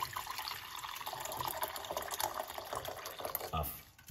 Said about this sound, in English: pour in some hot water.